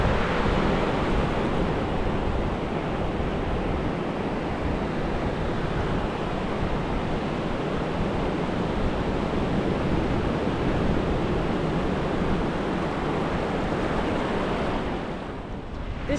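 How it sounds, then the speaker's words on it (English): Waves break on a Florida beach in a continuous, fairly loud surf roar with wind noise, easing off briefly near the end. "Take a look at these waves."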